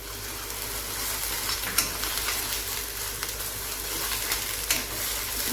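Misal spice paste (vatan) sizzles steadily in hot oil, a continuous close frying hiss with occasional small pops and no voices.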